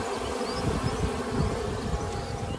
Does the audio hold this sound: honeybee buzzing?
yes